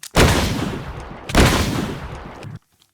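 Two heavy gunshots from a Scorched Guns 2 mod gun in Minecraft, spaced about a second apart, each a loud close blast with a long rumbling tail, then a sudden cutoff.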